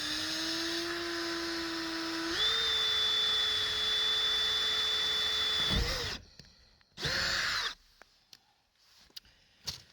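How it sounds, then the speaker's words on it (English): A power drill whirs steadily at close range, drilling a door for a cat door installation, rising in pitch partway through, then stops; a brief second burst follows, then a few small clicks. "I'm going to try to film the last of the drilling here."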